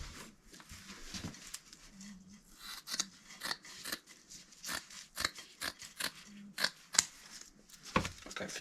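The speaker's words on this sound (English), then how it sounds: "Cut out strips like that." Scissors snipping through chopped strand fibreglass mat into strips, a quick run of crisp, close cuts in an irregular rhythm, with no talking.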